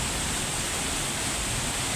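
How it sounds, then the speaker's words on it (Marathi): Heavy monsoon rain pours steadily over a waterlogged town street in Neral, a dense, even hiss of water filling the whole clip with no voices. "सकाळपासून लगातार पाऊस पडतो आहे"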